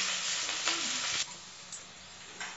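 Red onions sizzling in a pan for a vegetable lunch dish, a soft, steady frying hiss with a few light stirring scrapes.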